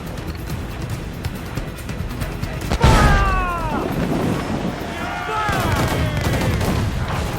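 Heavy enemy cannon and gunfire in Assassin's Creed IV Black Flag, with a loud close boom followed by whistling projectiles and rumbling impacts, as voices shout over the battle.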